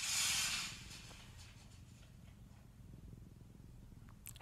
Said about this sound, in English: He's purring in my ear.